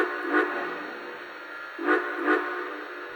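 Steam-style whistle from a Lionel Dreyfuss Hudson model train, three short hoots: one blast, a pause, then two close together, sounding alone over a steady background hiss.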